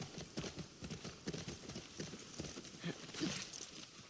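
A horse's hooves clip-clop at a steady walking rhythm in The Last of Us Part II, quiet and even throughout with no talk over them.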